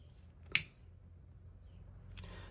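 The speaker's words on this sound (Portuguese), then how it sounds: "você pode vir aqui assim com o isqueiro" A lighter flicked once to singe the cut end of a festive ribbon for a holiday bow, a single sharp click near the start followed by a fainter second flick later, no talking.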